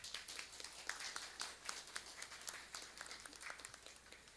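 An audience at a school gathering claps for the students, a faint, steady patter of many hands heard from a distance and lasting throughout.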